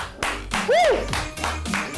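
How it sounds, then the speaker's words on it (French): An audience at a live evening stage show claps in uneven bursts, close and fairly loud, with a rising and falling vocal whoop mixed in. "Applaudissez ce soir Annie Blackman avec le son qui revient encore plus fort"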